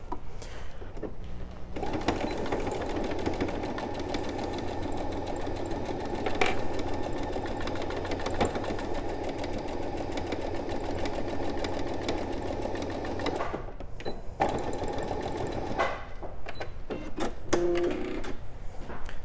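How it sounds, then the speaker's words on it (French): A sewing machine runs a long, steady stitching pass on the final seam of a small DIY quilt, with a short stop and restart near the end, heard alone. "on va aller faire notre dernière couture pour finir notre colonne"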